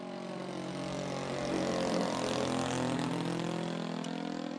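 A Hangar 9 J3 Cub model airplane circles overhead, its propeller engine buzzing steadily at a moderate distance and swelling slightly louder as it passes nearer, with no talk.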